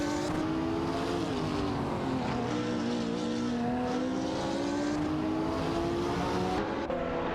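Engines of race cars in an AI racing video game, including a Lamborghini Reventon, drone continuously with steady high revs and a smooth rising pitch, loud and close with no talk.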